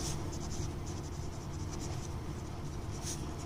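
Chalk or marker writing on a board during a school maths class, a steady faint scratching with brief high strokes over a constant low hum of the room.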